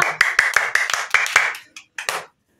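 Children clapping their hands at a quiz, about eight quick, near claps in a steady run followed by two softer, scattered ones.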